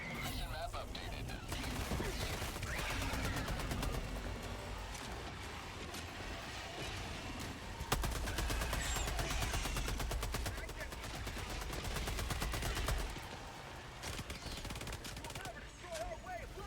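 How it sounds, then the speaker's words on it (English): Rapid submachine gun fire in a co-op shooter game, dense bursts of sharp cracks coming in long stretches, loud and close, with brief pauses and other combat noise between bursts. "These guns sound nice."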